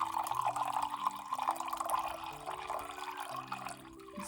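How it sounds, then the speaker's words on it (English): Tea poured into a glass and swirled, a continuous close liquid trickle and splash that fades slightly toward the end, with a soft musical tone underneath. "I'm just going to pour you a little glass of tea here. And as you know, we like to swirl our teas."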